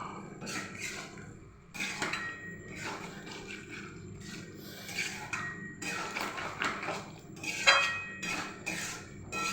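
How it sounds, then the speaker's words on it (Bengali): A spoon scrapes and clinks against a pan while pumpkin and potato curry is mixed with garam masala and coriander leaves, the metallic knocks coming in irregular bursts, close and moderately loud, with no talking. "এবার ভালো করে মিক্স করে নেব"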